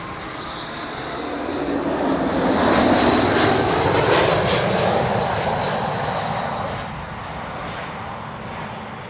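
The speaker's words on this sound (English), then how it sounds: "the airplanes that are landing here, headwind and mostly a bit of crosswind" An airliner roars in to land at Amsterdam Schiphol in a headwind, its engine noise swelling loud overhead, then fading away.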